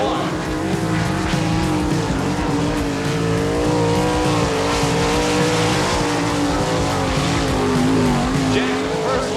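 Sprint race car at an All Star Circuit of Champions race in Eagle, Nebraska, engine roaring steadily down the backstretch on a lap, loud and continuous, with an announcer talking over it.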